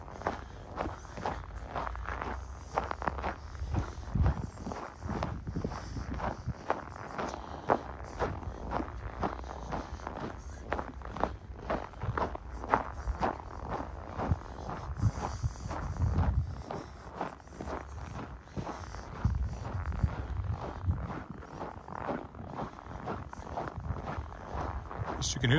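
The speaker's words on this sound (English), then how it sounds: "You can hear the crunch, crunch, crunch, crunch." Boots crunch along a snowy path beside a lake in Regina in December, steady close footsteps in an even rhythm throughout, with someone talking now and then over them.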